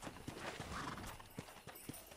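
Horses in the Red Dead Redemption video game clop along with steady hoof beats and let out a whinny, faint and fairly close, with no talk over them.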